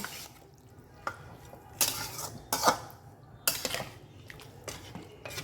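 Chicken curry stirred in a covered pot, oil-free, with a spoon knocking and scraping against the metal in a few scattered, fairly sharp clinks between quiet stretches.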